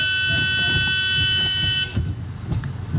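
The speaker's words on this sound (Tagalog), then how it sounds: "Nag-fire alarm ata yung sasakyan." A vehicle's alarm buzzer sounds as a loud, steady tone, then cuts off partway through, leaving a few low knocks and muffled handling noises.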